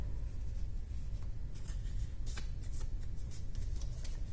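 Filter paper being folded in half and in half again in a chemistry lab, giving crisp papery crinkles and rustles in short bursts over steady room hum, with no talking.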